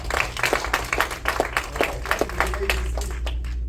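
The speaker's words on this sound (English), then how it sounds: "give yourself a round of applause." An audience at a motivational talk gives scattered, uneven rhythmic claps, fairly close and irregular, tapering off toward the end.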